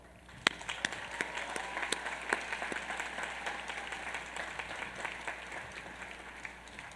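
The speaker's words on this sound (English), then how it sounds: "I would ask you to join me in recognizing them today with your applause" An audience at the 2014 Union College commencement claps steadily, a dense round of applause with a few sharper individual claps, sustained at an even level from start to finish.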